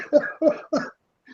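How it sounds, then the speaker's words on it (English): A person caught in a coughing attack lets out three quick, harsh coughs in a row, loud and close, then a fainter fourth after a short pause. "I'm having a coughing attack right now"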